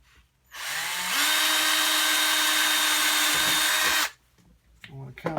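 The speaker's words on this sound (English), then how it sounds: "let's drill this hole in here." A power drill bores a hole into a wooden crutch: the motor spins up to a loud, steady whine held for about three seconds, then cuts off, followed by a few faint handling knocks.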